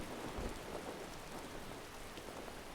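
Steady rain pours in a Skyrim thunderstorm using the True Storms mod, a dense even hiss with a low thunder rumble underneath, continuous and close with no voices.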